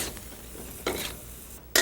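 Cauliflower and green peas with cream and fresh coriander are folded in a pan with a spoon, giving soft wet scraping strokes over a faint sizzle, with a couple of sharper utensil scrapes near the end.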